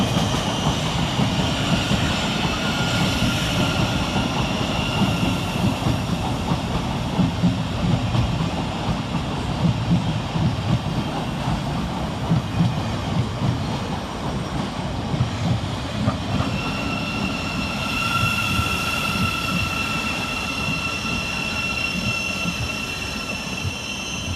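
A Thameslink Class 700 train, unit 700 116, climbs into Farringdon station with a steady rumble, wheel squeal and faint rhythmic clatter of the rails, holding at a moderate level throughout with no voices.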